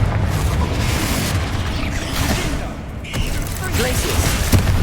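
A Confringo spell blast in the game Hogwarts Legacy, a loud booming burst with crackling debris over a busy rumbling combat backdrop, with a voice speaking alongside.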